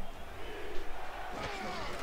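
A stadium crowd in Alaska on its feet at a football game sends up a steady, broad roar of cheering, with an announcer talking over it.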